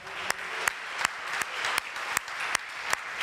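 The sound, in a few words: church congregation applause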